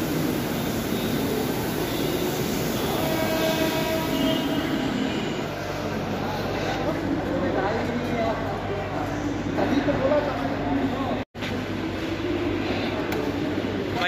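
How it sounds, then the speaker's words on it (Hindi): Train rumbling in to platform number 1 at an Indian railway station, a long-distance mail train from Mumbai, heard as a steady loud rolling roar with low hum and faint wheel squeal, with people talking nearby. "हमारी ट्रेन सामने से आ गई है"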